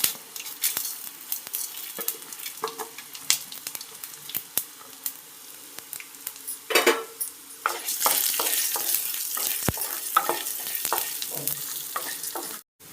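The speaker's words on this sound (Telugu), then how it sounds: "మనం తీసుకున్న బాండి వేడెక్కిన తర్వాత 1 స్పూన్ ఆయిల్ యాడ్ చేసి మనం తీసుకున్న దినుసులన్నింటినీ వేగించుకోవాలి." Whole spices crackling and sizzling in a spoonful of hot oil in a heated pan while making sweet potato chutney. A steady close fry runs throughout, broken by frequent scraping, stirring clicks and popping bursts.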